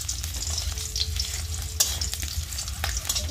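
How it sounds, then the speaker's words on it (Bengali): Boiled eggs are lightly fried and stirred in a pan, giving a steady close sizzle with scraping stir strokes and a few sharp clicks, no voices over it. "দেখো একটুখানি ভেজে নিচ্ছি হালকা করে"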